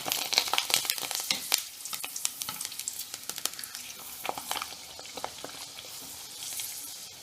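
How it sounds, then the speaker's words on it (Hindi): Sabudana papad drops into deep hot oil and fries, bursting into a dense, crackling sizzle with many sharp pops early that thin into a softer steady hiss, close up with no talking. "अब हम इसमें पापड़ डालकर तलेंगे"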